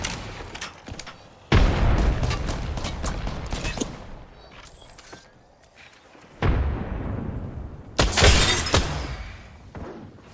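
Frag grenade blasts in Apex Legends during a competitive esports match, with loud broadband booms near 1.5 s, 6.5 s and 8 s over dense background battle noise and scattered gunfire.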